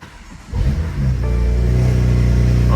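A BMW M4 track car's engine cranks, catches and settles into a loud, steady idle with a deep rumble. The start is abrupt and close, and no voices are heard.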